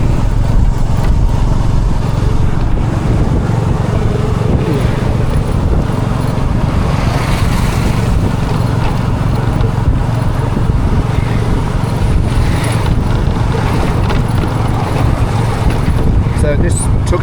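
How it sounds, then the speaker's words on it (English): A tuk-tuk, a small carriage pulled by a motorbike, carries its riders along steadily, its engine droning low under constant wind rush and road noise, with a voice speaking over it. "They're basically little carriages pulled by a motorbike."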